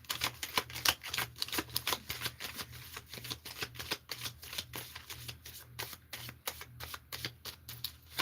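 A deck of tarot cards shuffled over and over, quick crisp riffles and flicks repeating in a steady rhythm, close and fairly quiet, with no talking.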